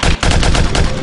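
Loud, close bursts of gunfire rattle off in a rapid string of several shots, like automatic fire, in a dramatic scene from a Yoruba movie.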